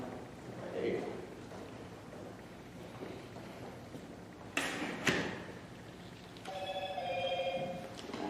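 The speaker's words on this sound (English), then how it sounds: "That's just my cell phone." A new smartphone rings during a live webcast, a short burst of bright tonal ringtone notes near the end, preceded by people talking and a brief sharp clatter.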